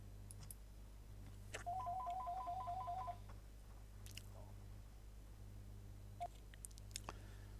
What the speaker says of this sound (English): So I had a phone call there, and you could hear it ringing in.